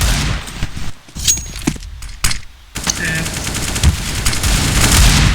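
Rapid bursts of automatic gunfire from a Counter-Strike: Global Offensive match, loud and dense, with a brief lull and scattered single shots before heavy firing resumes; a voice speaks faintly underneath.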